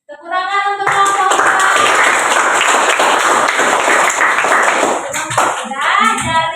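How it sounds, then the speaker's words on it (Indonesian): Classroom of students clapping for a discussion group, brisk, close hand claps filling several seconds, with a teacher's voice heard briefly before and after. "Tepuk tangan untuk kelompok"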